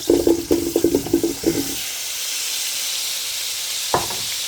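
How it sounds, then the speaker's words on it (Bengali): Potatoes frying in the same oil just used for chicken, a steady close hiss and sizzle with bubbling bursts in the first half settling into an even fizz, no talking. "এই যে এখন আমি সে একই তেলে আলুগুলোকে ফ্রাই করে নিব।"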